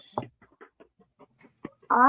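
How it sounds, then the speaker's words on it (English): A loud pet bird calls indoors in short squawks, with a sharp burst near the start and a long harmonic screech at the end, separated by faint chirps and clicks. "Bird's being a little loud today."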